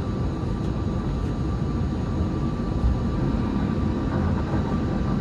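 Airplane cabin on the ground after landing at Saga Airport, filled with a steady, loud broadband rumble of engines and air flow that holds evenly throughout, with no voices.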